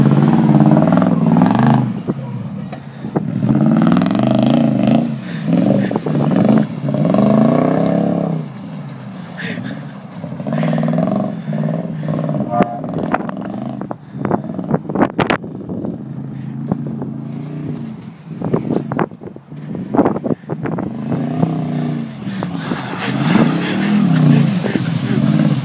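A lifted Toyota Tundra churns through deep mud, its engine roaring and revving in surges beneath shouting voices, with clatter and splashing throughout.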